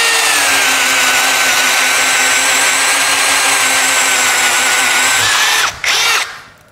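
A DOLIZ BD636 12V brushless compact cordless drill spins at speed 1 in torque mode with a loud, steady, close whine that holds for several seconds and then cuts out and winds down.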